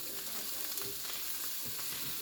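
Eggs fry in a pan over medium heat with a soft, steady crackling sizzle that stays close and fairly quiet, with no talking.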